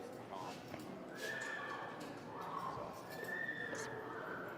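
A horse neighs at a horse sale in Harrisburg, Pennsylvania, letting out a couple of shrill, drawn-out whinnies amid a busy indoor crowd murmur and hoof clatter, with people talking throughout.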